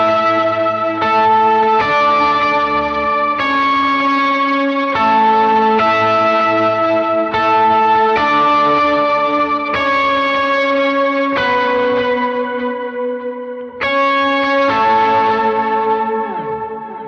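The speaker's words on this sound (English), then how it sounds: "That goes into the TC Electronics sub and up for any octave things." Electric guitar run through a TC Electronic Sub'n'Up octave pedal on a worship pedalboard, playing sustained chords and notes thickened by added octave layers, steady and loud with effect-laden shimmer and no talking.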